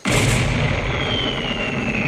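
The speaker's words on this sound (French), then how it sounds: "voici l'engin qui fera boum une fois semaine et vous propulsera un à un vers le chagrin et l'humiliation du renvoi" A cartoon cannon fires a single loud boom that starts abruptly and rumbles on with a long decaying roar, alone with no talking.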